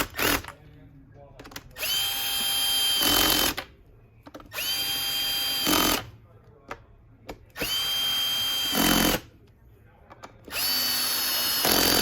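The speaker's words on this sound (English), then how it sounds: "And then we screw everything in." A power screwdriver drives screws into a Miele appliance during repair, whirring in four loud, sustained bursts of a few seconds each, separated by short quiet gaps.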